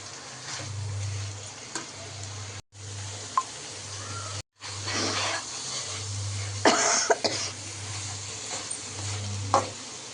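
Chicken gravy fries in oil in a pan as it is stirred, giving a steady sizzle with scraping strokes and occasional coughs nearby.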